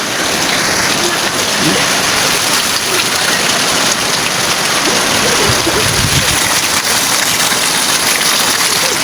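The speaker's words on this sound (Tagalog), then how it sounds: "Yung tubig, yung ulan ng mga kabigay parang pumapasok dito sa kwarto ko." Heavy rain pours steadily outside a bedroom window, with water seeping into the room, a dense, unbroken hiss of drops on surfaces; a faint voice may sit underneath.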